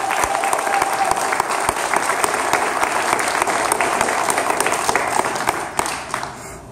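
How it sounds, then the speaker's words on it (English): Loud, dense audience applause at a Stamp Out Stigma event at Penn State Shenango, steady clapping from a crowd that holds for several seconds, then begins to thin near the end. "Ladies and gentlemen, real loud, make some noise for Fern."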